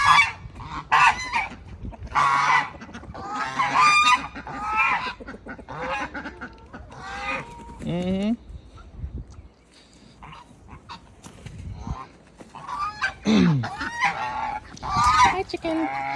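On a rural homestead, a flock of geese honks and ducks chatter loudly and close by in scattered bursts, with a person talking softly between the calls and a brief quiet gap midway.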